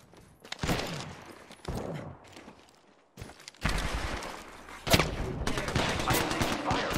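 Apex Legends gunfire crackles in rapid bursts, loud close volleys broken by short quiet gaps and building to sustained automatic fire, with game voice lines in between.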